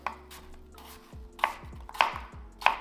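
A knife dicing apples on a cutting board for a caramel apple empanada, with a handful of sharp, close chops arriving in an uneven rhythm and separated by short pauses.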